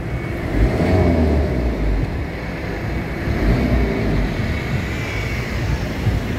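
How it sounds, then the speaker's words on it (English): A car drives past on a street at a shopping centre in the Freezone, Montego Bay, Jamaica; a broad engine and tyre rumble swells and eases as it moves by, fairly close and loud. "Let this vehicle pass."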